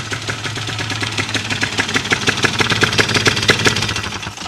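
A paramotor engine runs steadily during its annual tune-up, a close, rhythmic mid-pitched putter with regular firing pulses.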